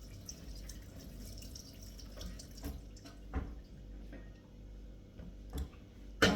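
Sweet peppers are rinsed under running tap water at a sink, a soft steady trickle with scattered light taps and splashes as the peppers are handled, fairly close and quiet.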